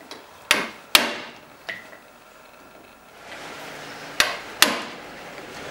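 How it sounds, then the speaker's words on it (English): A hammer striking a sprung impact driver to loosen Phillips head screws on a hub, sharp metallic blows in two pairs separated by a pause, plus one lighter tap, close and loud with no talking. "Start off with an impact driver."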